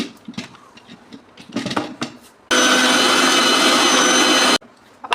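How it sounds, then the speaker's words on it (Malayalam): A mixer grinder blends watermelon juice in one loud, steady whirring burst of about two seconds, set between quieter clinks and handling noises in a home kitchen. "നമുക്ക് മിക്സിയിലിട്ട് നല്ലോണം അടിച്ചെടുക്കാം"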